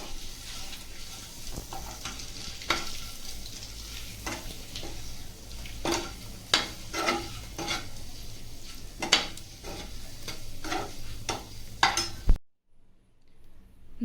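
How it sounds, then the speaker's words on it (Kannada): Eggs frying lightly in a pan with salt, chili powder and turmeric: a soft continuous sizzle broken by repeated sharp scrapes and taps of a spoon stirring against the pan, with no talking, before everything cuts to near silence. "ಸ್ವಲ್ಪ ಉಪ್ಪು ಖಾರ ಹಿಡೀಲಿ ಅಂತ ಫ್ರೈ ಮಾಡ್ಕೋಬೇಕು ಲೈಟಾಗಿ"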